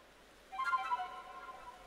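Pokémon Diamond and Pearl title screen music: a faint, short melodic jingle of soft tonal notes rising out of near silence, ringing briefly and fading into a low hum.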